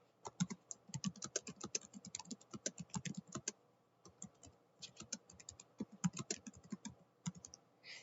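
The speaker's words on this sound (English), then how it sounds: "I'll type that in for you." Rapid keystrokes on a computer keyboard while entering book text in a design program, fast bursts of clicking with a short pause midway, close and clear with no talking.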